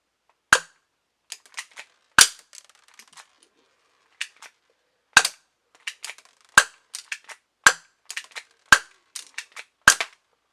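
Game Face airsoft pistol fired from the hip, about nine sharp snapping shots at an irregular pace, each followed by small clicks and rattles from the mechanism, close and loud against near silence.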